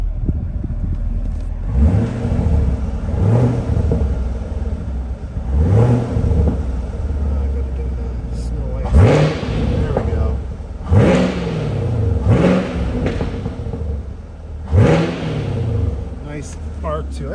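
A 2017 Chevrolet Camaro 2SS with an automatic gearbox idles close by, then revs again and again, each rev rising and falling in a steady series of loud pulls over a constant engine hum.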